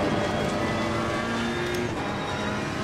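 BMW GT3 race car engine in the Assetto Corsa Competizione video game, a steady, loud sustained drone that holds on without a break and carries no talk.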